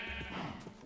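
A sheep bleats in Minecraft, one short, wavering blocky game bleat heard close and clear, fairly quiet, with no talking over it.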